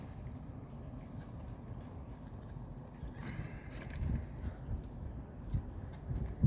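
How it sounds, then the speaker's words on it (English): Boat motors drone at a distance over the water, a low steady rumble with light wind noise and faint splashes. "Couple of boats out going by."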